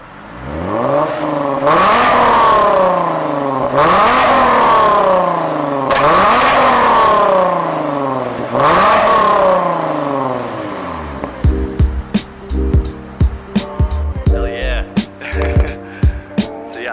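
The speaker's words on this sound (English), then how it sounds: "Alright, I'm gonna give him some revs." A Lexus IS car with a newly fitted mid pipe exhaust revs up repeatedly, four long loud rising and falling engine sweeps close by, followed by quicker sharp blips and pops.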